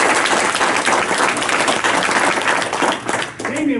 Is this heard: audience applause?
yes